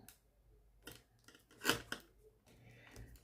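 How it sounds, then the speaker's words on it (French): A few quick snips of scissors cutting fabric, crisp and close, with short pauses between cuts and a quiet room behind. "la Misdi avec ses tissus dans les mains et son paire de ciseaux"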